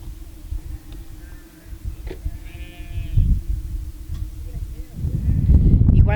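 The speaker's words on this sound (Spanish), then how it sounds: "Y tú ves allá que las cabras vienen bajando" Goats descending a hillside near mine tailings bleat in short wavering calls amid wind and outdoor rumble, with a few bleats standing out over the noise.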